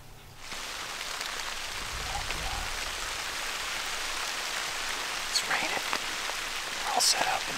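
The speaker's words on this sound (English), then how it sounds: "See if it's supposed to rain all evening or if it's just right now." Steady rain patters on surfaces outdoors during a Missouri archery whitetail hunt. It is a continuous close hiss, with a few brief louder knocks and rustles near the end.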